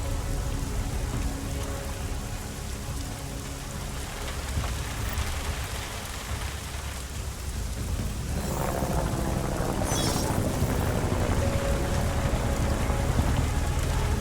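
Steady rain falls throughout a city street scene in the video game Deus Ex: Mankind Divided, a dense hiss of drops on surfaces that swells slightly louder in the second half, with a brief brighter splash or gust near the middle.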